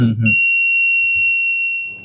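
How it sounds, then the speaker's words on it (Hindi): A student-made gadget for monitoring patient movement gives one steady, loud electronic beep that holds for nearly two seconds before cutting off, with a brief bit of talk just before it starts. "और जब हम फिंगर को रिलैक्स करेंगे तो बीप जो साउंड है वो बंद हो जाता है।"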